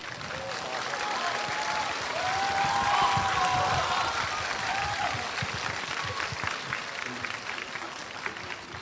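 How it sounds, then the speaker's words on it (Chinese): A premiere audience for the film The Climbers applauds the three veteran mountaineers, sustained dense clapping that swells and then fades, with a voice talking over it. "把致敬的掌声送给3位前辈"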